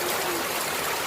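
Heavy rain pours down with rushing floodwater around a parked vehicle at an outdoor picnic spot, a steady dense wash of hiss and flowing water filling the whole moment without a break.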